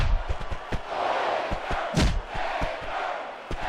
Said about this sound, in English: This superstar is all fired up, and so is this capacity crowd.